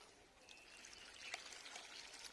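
Homemade liquid fertilizer is poured from a mug onto a potted plant, giving a soft, steady trickle and splash that runs throughout, faint and close with no talk.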